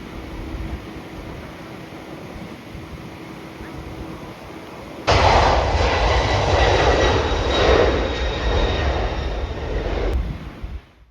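A quiet hum gives way to the loud, sustained roar of an airplane engine nearby at the CVG airport viewing area, holding steady and then cutting off abruptly.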